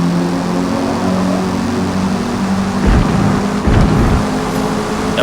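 A racing car engine roars steadily throughout a Forza Motorsport lap in a Volkswagen, held loud and close under hard throttle, with a couple of brief surging bursts near the end as the car brakes and powers back through turns.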